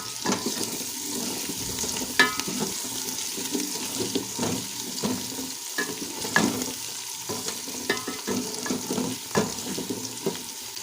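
Browned onions for matar dal sizzle steadily in a pan while a spoon stirs and scrapes them in irregular strokes, close and fairly loud, with no one speaking.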